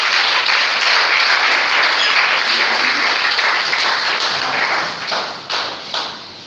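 A church congregation breaks into loud, dense applause that fills the space, steady for about five seconds before thinning into a few scattered claps, with no speech over it.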